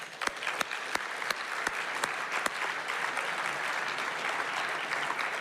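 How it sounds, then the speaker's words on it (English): An audience applauding at an awards evening, dense sustained clapping filling the room, with a few sharp individual claps standing out early on. "All right, a round of applause."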